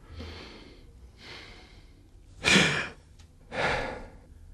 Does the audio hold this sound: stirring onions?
no